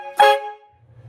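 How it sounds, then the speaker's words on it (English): A DIY train horn driven by a cordless drill gives one short, loud, brassy blast lasting a fraction of a second, then cuts off, leaving a faint low whir. "It's a train horn. It's ridiculously loud."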